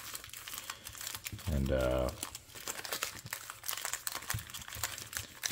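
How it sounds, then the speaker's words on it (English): Trading cards from a booster box being shuffled and handled, with a papery crinkling rustle that swells briefly near the middle, set under quiet talk. "We'll get all these cards over here, shuffle them up a little bit"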